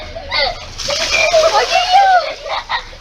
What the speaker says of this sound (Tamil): ஊத்துறமா?